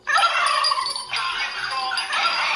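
A person imitates a turkey's gobble during a giant Christmas board game challenge, a loud, warbling, rapid burst of throaty calls repeated over a couple of seconds, close and alone.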